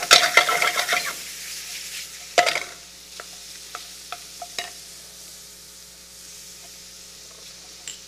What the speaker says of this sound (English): I'll give the shrimp a quick sizzle, a quick stir fry.